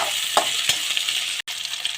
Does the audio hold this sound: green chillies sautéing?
yes